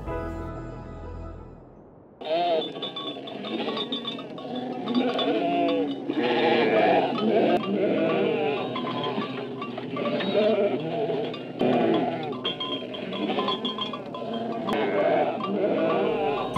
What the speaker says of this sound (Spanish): Ovejas merinas.